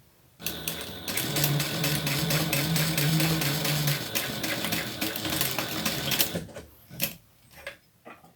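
Sewing machine stitching through vinyl, a close, loud mechanical whir with a fast steady needle rhythm running for about six seconds, then stopping and leaving a few small clicks and handling noises.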